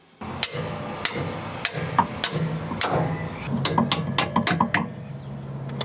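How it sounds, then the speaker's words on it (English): Sharp metallic hammer blows ring out one after another as a bolt is hammered through a rear toe arm mount on a Lexus IS300, about a dozen strikes at an uneven pace, close by, with a low mechanical hum underneath. "I'm gonna probably have to hammer it through the back."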